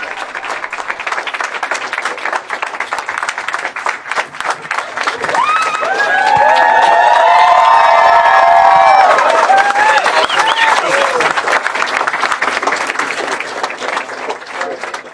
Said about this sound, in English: there are a lot of cheers and applause as his supporters goad him